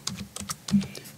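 Computer keyboard typing during Lightburn text editing: a quick burst of about six close, crisp key clicks in just over a second, with a brief voice fragment among them.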